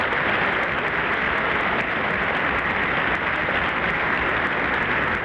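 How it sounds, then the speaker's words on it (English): Dense, steady applause from a large crowd filling an armory on 1960 election night, continuous and loud throughout with no clear pauses or voices standing out. "they are contributing mightily to the applause."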